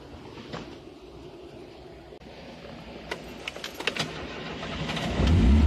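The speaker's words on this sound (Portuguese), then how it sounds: "Dá a partida aqui no Voyageiro." Carbureted VW Voyage with a running fault being started outdoors, a cranking stutter of uneven bursts that builds into a louder engine catch at the end, close by.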